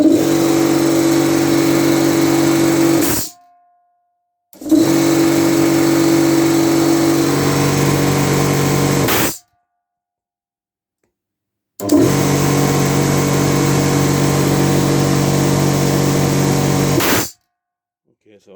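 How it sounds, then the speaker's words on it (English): An air compressor runs in three long loud stretches of steady mechanical droning as it builds pressure, with sudden cut-offs into silence between runs. "Okay, so we know the air compressor works at least."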